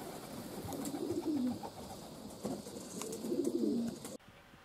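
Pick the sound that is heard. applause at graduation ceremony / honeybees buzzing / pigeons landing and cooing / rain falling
pigeons landing and cooing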